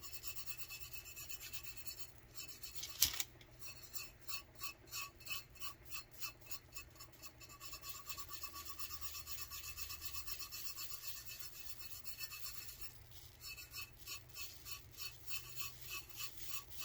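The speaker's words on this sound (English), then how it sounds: "You just want to burnish that glitter into the cup." A gloved finger burnishes glitter into a cup with quiet, rhythmic rubbing and rasping strokes, plus one brief sharp tap near the start; no voices.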